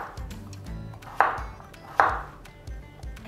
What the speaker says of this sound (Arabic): احنا دلوقتي قطعنا البطاطس